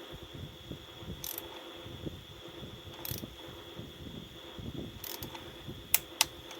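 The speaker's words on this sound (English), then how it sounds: "I'm just torquing these intake manifold bolts down" Ratchet clicking while torquing intake manifold bolts on a 2012 Dodge Durango 3.6 L V6, with soft repeated pawl ticks over a faint background hum and two sharper clicks near the end.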